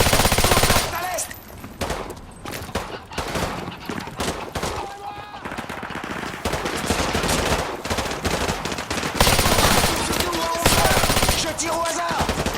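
Rapid bursts of automatic gunfire and single shots in a Call of Duty: Modern Warfare 2 Remastered firefight, loud and dense throughout, with scattered impacts and game voice chatter mixed in.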